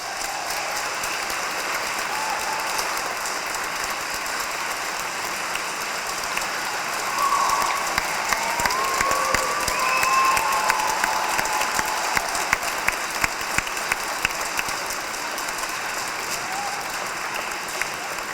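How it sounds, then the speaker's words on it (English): Applause at a Catholic school's 100th anniversary event: a dense, steady crowd clapping that swells partway through, with scattered louder claps and a few faint voices and cheers mixed in. "I want to give a big round of applause for our principal, Thomas Ian."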